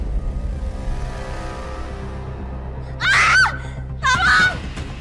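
A woman screams in fright in an indoor setting: two sharp, loud shrieks about a second apart, following a low background hum.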